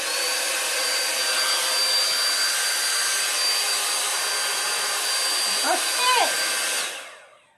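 A PureAirCurl hair styler runs on medium heat with a loud, steady airy roar and motor whine that holds for about seven seconds, a brief voice sounding near the end before the blower winds down.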